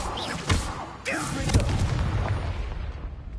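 Bombarda spell exploding in the wizarding game Hogwarts Legacy, with a couple of close, heavy booms and bursts that roll into a rumbling tail, while a voice talks over part of it.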